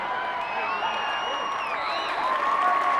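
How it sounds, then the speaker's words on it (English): A high school football crowd in the final minute of the fourth quarter, Joplin versus Waynesville, cheers and whoops loudly and steadily to rattle the offense, with a commentator talking over the roar. "The crowd is getting pumped up to try to intimidate this defense"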